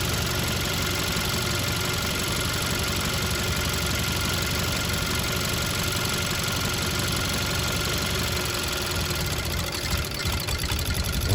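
A Hyundai Accent GDI engine idles loudly and continuously during an intake cleaning, a dense, rough mechanical drone with a faint ticking edge that holds steady throughout, close up and alone.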